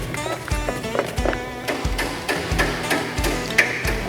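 Repeated metallic hammer taps ring out at a steady, moderate pace while assembling a V-twin cruiser motorcycle, each strike sharp and close with a short ringing tail.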